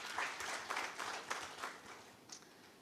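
Conference audience at a sustainable energy week event claps in a short burst of applause, a dense patter of many hands that is fairly faint and distant and fades out within a few seconds.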